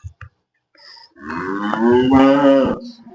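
A Holstein Friesian farm cow lets out one long, loud, close moo that rises and holds for over a second, following a few faint knocks and a brief quiet.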